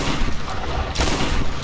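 Shotgun fire in the Tomb Raider video game: a loud blast about halfway through breaks out of a busy, rumbling game soundtrack, followed by sustained noisy action.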